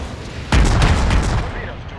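Naval gunfire in the video game World of Warships: one abrupt, heavy cannon boom lands close and loud, then rolls into a long, deep rumbling tail that slowly fades, with a voice talking faintly underneath.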